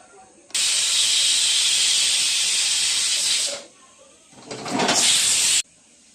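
A pressure cooker releasing its whistle in two loud, close bursts of shrill hissing steam, a long blast of about three seconds followed by a shorter one after a brief dip.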